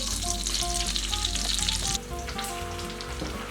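Danish meatballs (frikadeller) sizzle and fry in butter in a pan, a steady close, loud crackle with a brief drop in intensity partway through, and light kitchen clatter underneath.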